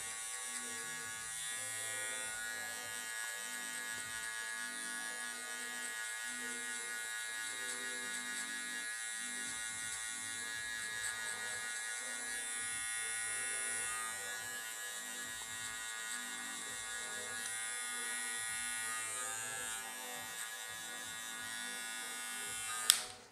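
Electric hair clipper with a guard on an intermediate setting running over hair in a fade haircut, giving a continuous close buzzing whine that holds steady for the whole stretch, alone without talk, ending with a brief click.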